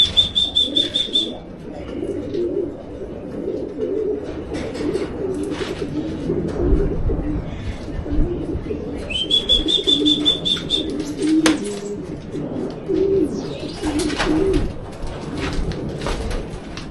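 Racing pigeons arrive at the loft after a 305 km derby race, with soft repeated cooing, bursts of wing flapping and a couple of sharp whistling chirps, close by and lively.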